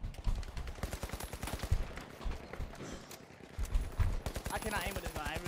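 Rapid bursts of automatic gunfire from a shooter video game, The Finals, with loud repeated shots and pauses between volleys, mixed with game effects and a voice speaking over the action.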